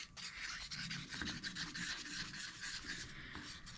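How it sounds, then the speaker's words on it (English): Epoxy resin being stirred in a cup while the sides are scraped, heard close up as rough, repeated rubbing and scraping strokes in a quiet room. "we're just going to mix that up real good. Always make sure you scrape your sides."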